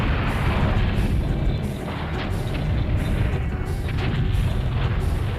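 Tank cannon fire and explosions in the video game BattleTanx: Global Assault form a dense, loud, continuous rumble of booms and blasts throughout.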